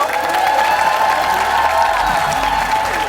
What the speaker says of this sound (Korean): 다시 한번 축하 박수로 환영해 주시고요